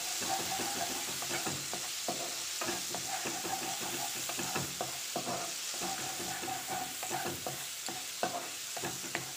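Spice masala frying in a pan over a low flame, a soft continuous sizzle broken by frequent scraping and stirring strokes, close but fairly quiet.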